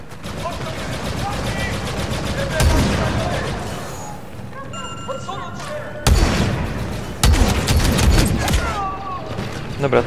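Turret gunfire roars in Star Wars Battlefront 2, with rapid fusillades of blaster shots and heavy booming impacts coming in several loud bursts over a busy background of battle effects.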